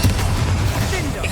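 Explosive spell blasts from Hogwarts Legacy gameplay form a dense, continuous booming rumble over about a second and a half, loud and close, with no clear gaps between impacts.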